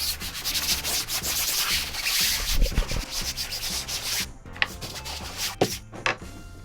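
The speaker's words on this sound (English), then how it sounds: "I'm going to grab a stiffer brush and just start working it in." A stiff brush scrubs a fabric bag soaked with OP Clean cleaner, giving steady close rasping strokes in quick rhythm, then a few sharper separate scrubs near the end, with no talking.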